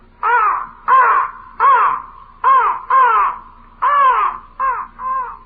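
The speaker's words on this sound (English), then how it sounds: "The raven himself is hoarse that croaks the fatal entrance of Duncan under my battlements." A raven croaks in a series of eight harsh, hoarse calls at an uneven rhythm, loud and close, with short quiet gaps between them and no other sound around.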